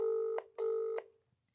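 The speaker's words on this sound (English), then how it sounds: "let's phone back the person whose phone call I missed." A telephone being dialed to return a missed call: two long steady electronic tones, each lasting under half a second, separated by a short gap, then quiet, with no talking.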